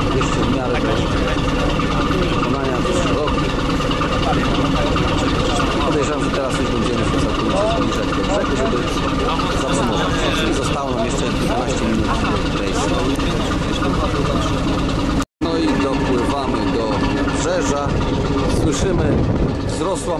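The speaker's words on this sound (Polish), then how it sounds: "silniki pracują na zwiększonych obrotach, ale to jest niezbędne przy wykonywaniu manewrów" A ship's engines run hard at raised revs as the vessel turns around in a narrow port canal near Travemünde, a steady loud low rumble filling the whole stretch with a brief dropout near the end.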